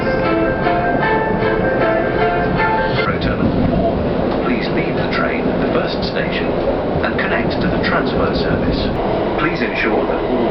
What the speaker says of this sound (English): Let's take the Heathrow Express from Terminal 5 along to Heathrow Central.